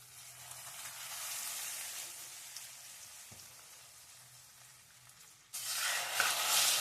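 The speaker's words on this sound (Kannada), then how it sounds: "ನೋಡಿ ಒಗ್ಗರಣೆ ಹಾಕ್ತಾ ಇದ್ದೀನಿ" Spice tempering (oggarane) sizzling in hot oil for a mixed greens and field-bean soppu sambar, a steady crackling sizzle that eases off, then flares up loudly again near the end, with no talk.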